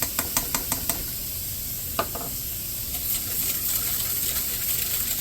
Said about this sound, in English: you're going to mix it all up.